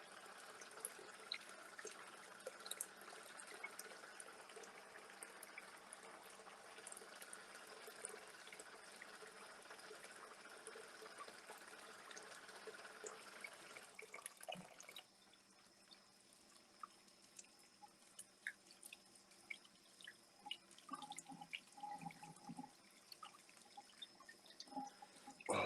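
Warm tap water runs steadily in a kitchen sink while eggnog is being made, a soft continuous hiss that cuts off abruptly midway, leaving quieter drips and small handling noises behind.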